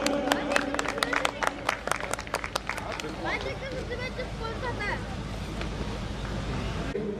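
Applause at a Holi Milan celebration gathering: a burst of sharp clapping opens, then thins into a busy crowd murmur with scattered claps and chatter.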